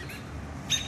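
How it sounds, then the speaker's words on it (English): Robins call agitatedly in a backyard, with one short sharp chirp rising near the end over quiet outdoor ambience. "there are robins going crazy in my yard."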